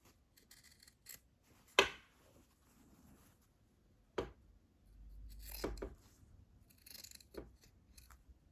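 Scissors snip away excess seersucker fabric while sewing a dress, a few sharp isolated cuts spaced over a quiet background with soft rustling of cloth between them.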